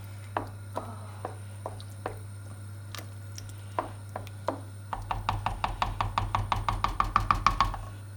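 Chicken curry being stirred in a pan on the stove, a spoon knocking and scraping against the pan in irregular strokes, then in a quick, steady run of repeated taps, close and fairly quiet over a constant low hum.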